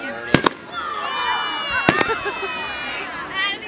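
Fireworks at a Scotts Valley display, sharp loud bursts with crackling tails, a quick pair and then a single boom, while a crowd of kids cheers and shouts.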